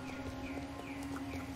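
A Percheron horse walks in the video game Star Stable, its hooves giving soft, even clip-clop steps over a faint steady background tone, quiet and brief.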